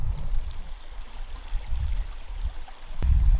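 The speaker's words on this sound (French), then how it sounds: "bruit du ruisseau là, il est trop relaxant" A stream flows steadily, a soft continuous rush of water heard up close, with a brief knock near the end.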